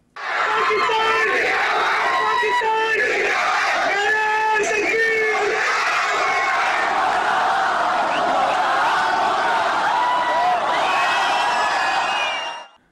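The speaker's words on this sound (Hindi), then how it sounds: "लोगों ने पाकिस्तान जिंदाबाद के नारों से धरती और आसमान बराबर कर दिया" A huge crowd roars and chants Pakistan Zindabad slogans outside a home where cricketers stand on the balcony holding a trophy; dense, loud, sustained shouting with rhythmic chanting voices layered over one another throughout.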